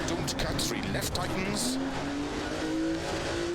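A Porsche rally car in a sim racing game is driven hard through a forest stage, its engine revving and rising in pitch with gravel and tire noise. A person talks over the car throughout.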